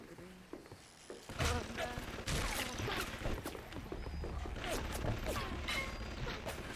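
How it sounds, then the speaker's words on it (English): Turrets shooting at each other in Bioshock Remastered: rapid mechanical clattering bursts and sharp impacts continue over a busy machine din, with a voice talking at times. "All of the turrets are just kind of shooting at each other."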